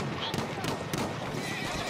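A horse whinnies briefly in Battlefield amid game noise and gunfire cracks, with players talking over it.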